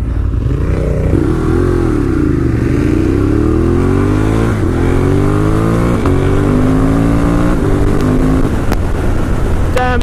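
A 2018 Ducati Monster 1200S engine revs up hard, its pitch climbing through several gear changes as it accelerates steadily and loudly, with no talking.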